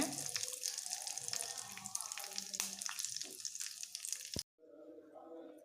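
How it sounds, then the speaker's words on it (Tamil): Steady crackling sizzle of mustard seeds and cumin popping in hot oil, close and continuous, cutting off abruptly near the end to a quieter hiss. "எண்ணெய் காஞ்சதும் நம்ம எடுத்து வச்ச கடுகு ஜீரகம் எல்லாத்தையும் போட்டு நல்லா பொடியிட்டோன்னு எடுத்து கொட்டிடலாங்க"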